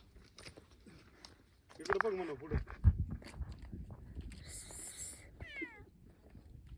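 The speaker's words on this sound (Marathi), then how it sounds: "किती शांत मांजर आहे बघा ती" A cat gives a couple of short meows, moderately close, while people talk and footsteps shuffle nearby, at the Jejuri temple town.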